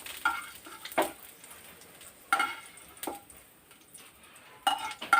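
Dry red chillies, coriander seeds and cumin tumble in a dry pan, a few louder scrapes and knocks of stirring standing out over a soft, steady toasting crackle, with no voices.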